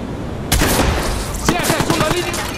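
Watch Dogs gunfire: a sharp, loud shot erupts suddenly, then a rattle of further rapid shots and impacts follows, with voices talking over the shooting.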